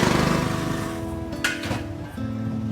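A run-down motorcycle engine idles and runs with a rough, uneven rumble, loud and close, dipping briefly before picking back up.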